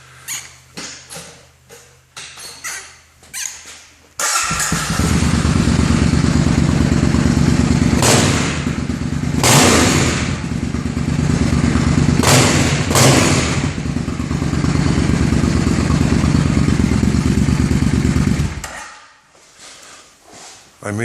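A 1993 Suzuki Intruder built as a bobber starts after a few clunks, then its engine runs loud and rough for about fifteen seconds with revving swells before shutting off.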